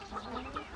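Farmyard chickens cluck in three soft, quick calls, faint and brief, with no other sound around them.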